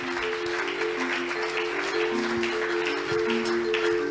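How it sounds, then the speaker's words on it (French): A church congregation applauds loudly and continuously, a dense wash of clapping with cheering voices mixed in, close and sustained throughout. "On peut acclamer le Seigneur très très fort."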